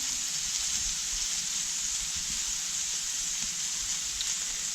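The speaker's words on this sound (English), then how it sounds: "my onions are browning up quite quick here, which is nice" Onions fry and brown in a hot cast iron pan on a wood cook stove, a steady, even hiss of sizzling oil that continues unbroken throughout without talk.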